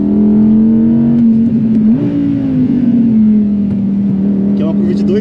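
A 600 cv Audi RS 6 wagon accelerates hard on a track, its engine a loud sustained droning roar rising and shifting in pitch, heard from inside the car.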